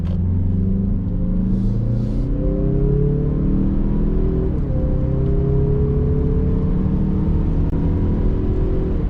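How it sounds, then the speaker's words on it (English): A Mazda CX-30 engine revs up and growls through rising gears, loud and close, with a steady rumble underneath and no talking. "You heard the engine accelerating and growling, and then it tapered right off"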